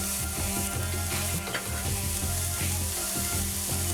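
Eddoes fry steadily in hot oil, a dense continuous sizzle and crackle close by with faint stirring, no voices.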